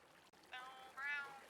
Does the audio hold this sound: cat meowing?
yes